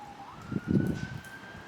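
A wailing emergency vehicle siren in American Truck Simulator rises and holds a steady tone at moderate distance, with a low rumble from the game swelling briefly underneath.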